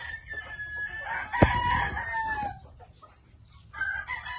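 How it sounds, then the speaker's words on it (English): A farm rooster crows nearby, a loud drawn-out call that rises and falls before trailing off, with softer clucks and some rustling before and after. "This is the rooster I call Lyle"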